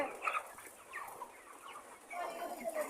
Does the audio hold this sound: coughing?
no